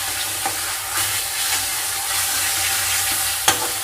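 Mutton sizzles and fries in a pan with salt, a steady hiss punctuated by a few scraping stirs, the loudest one near the end.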